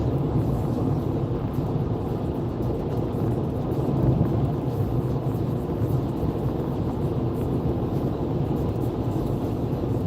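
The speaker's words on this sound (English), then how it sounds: "the storm is right above us now" Thunderstorm directly overhead during a night drive, a continuous low rumble with rain drumming steadily on the car, dense and unbroken for several seconds.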